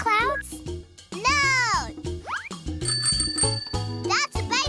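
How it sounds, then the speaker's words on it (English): A bright bicycle bell rings in cheerful trills amid playful, sing-song voices and music in the cartoon Pinky Dinky Doo, up close and loud. "That's a bicycle bell."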